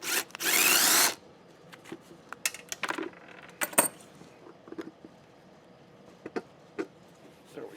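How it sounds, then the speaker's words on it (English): Bottom nut being pulled from a Honda GC160 small engine, opening with a brief loud burst of spray or air, then scattered metallic clicks, taps and ratcheting scrapes of tools on metal, close and intermittent. "I'm just going to pull that bottom nut out."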